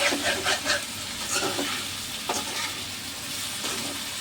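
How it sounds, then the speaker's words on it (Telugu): Taro root and dry prawn curry stirred in a pan, a steady sizzle of frying under several scraping strokes of the spoon, close and clear, with no talk. "చక్కగా ఇలా మొత్తం కలిసేలాగా ఉప్పు ముక్కలకు పట్టేలాగా కలుపుదామండి కూర."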